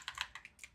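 Crisp keystrokes on a computer keyboard while typing Python code, about half a dozen quick, light clicks in an uneven rhythm, close by and alone.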